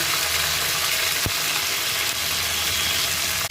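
Fried potatoes with ginger paste and cumin powder added sizzle in a pan. A dense, steady frying hiss is broken by a couple of sharp utensil knocks.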